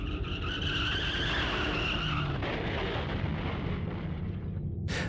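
A car skids loudly outside a home, a sustained screech with broad rumbling noise lasting several seconds before cutting off abruptly, no voices present.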